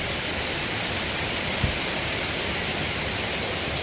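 A waterfall in Trough Creek State Park, Pennsylvania, roars as a steady, dense rush of falling water. It is loud and unbroken, with a single faint knock partway through.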